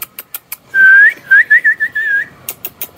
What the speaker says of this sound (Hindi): जब मैं इसको बोलता हूँ ना सीटी मारता हूँ तो फिर भी जवाब देता है